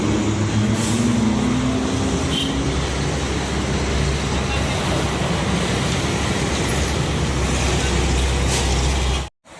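Steady loud engine rumble of a large Limbersa bus pulling away nearby from a crowded bus station in Palembang, Indonesia, with low droning motor noise and general road traffic around it.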